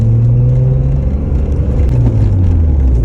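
Steady interior engine drone and road rumble of a 1993 BMW E36 325i on a test drive, a continuous close hum with slight rises in revs.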